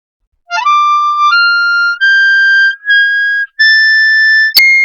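A harmonica plays a blues scale in the upper octave starting on the 8 draw, a rising sequence of clear, sustained high notes, one after another, ending with a brief sharp click.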